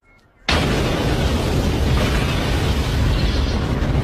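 Sudden loud explosion in a Jackie Chan action film, a sharp onset followed by a sustained roaring blast and rumble that stays dense and heavy for several seconds.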